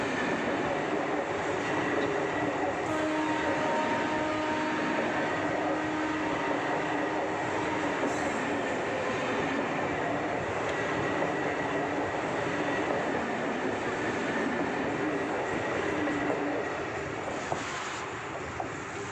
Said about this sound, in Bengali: আবার গেট পড়েছে, বসে আছি। তো এখানেও একটু ভিডিও তুলে দিলাম, ট্রেন যাচ্ছে